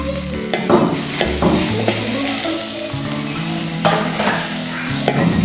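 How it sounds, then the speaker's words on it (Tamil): Tomatoes stirred into sautéing onions for onion chutney, a steady close sizzle with repeated scraping and clinks of a spoon against the pan throughout, no talking. "தக்காளியை சேர்த்து நல்லா கொஞ்சம் வதக்கலாம்."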